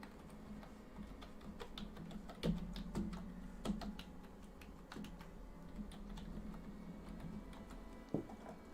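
Irregular clicking keystrokes on a sticky computer keyboard, tapping steadily at close range with a few sharper, louder key hits, no talking.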